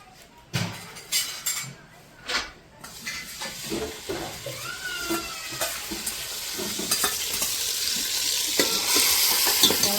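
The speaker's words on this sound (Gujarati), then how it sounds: "ઘી મૂકીને વઘાર એલસી અને લવિંગનો વઘાર કરી અને ચોખા મૂકી દેવો અંદર" Cardamom and cloves sizzle and crackle in hot ghee, with stirring and scraping of a pan; the frying hiss builds steadily louder.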